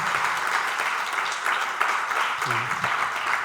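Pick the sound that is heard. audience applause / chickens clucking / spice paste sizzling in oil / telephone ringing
audience applause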